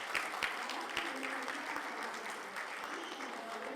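Audience applause at a poetry book release at the Chennai Book Fair, a moderate wash of clapping with a few sharper individual claps standing out, somewhat distant and steady.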